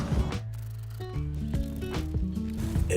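A ratchet clicks rapidly while loosening 8mm bolts from the bottom panel under a Mercedes-Benz during an oil change, with short bursts of metallic pawl ticking, close and clear, no talking.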